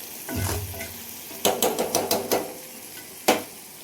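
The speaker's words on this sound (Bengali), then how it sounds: "এবার মশলাকে একটু ভাজা ভাজা কষা হয়ে যাবে।" Masala of onion, garlic, ginger, salt and turmeric sizzles steadily in oil in a frying pan for a fish curry. A spoon scrapes and knocks against the pan in a quick run of stirring strokes, with no talk.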